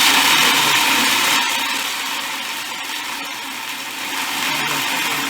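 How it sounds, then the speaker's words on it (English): A food processor grinds peanuts into peanut butter, a loud continuous motor whir with a churning, slightly fluctuating tone that eases a little in the middle, close and uninterrupted. "It'll go through this grinding motion."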